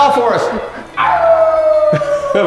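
A person imitates a wolf howl, a long sliding voiced wail that rises then falls gradually across about a second and a half, loud and close, following a brief shorter attempt at the start.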